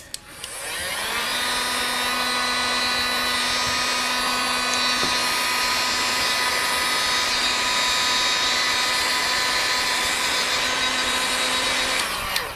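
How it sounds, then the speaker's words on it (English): A heat gun blows a steady, loud, continuous whoosh with a whining tone while shrinking heat-shrink tubing over crimped wiring for a lightbar harness, starting abruptly and running alone before cutting off at the end. "Heat gun."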